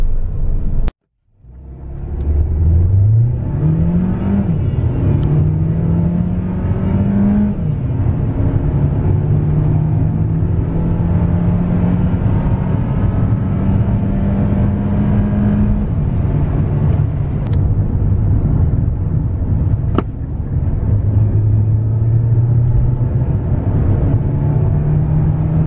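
A Mercedes-Benz GLA 200 accelerating hard in sport mode, its engine note climbing and dropping through gear changes over a continuous road rumble, loud and close with no talk.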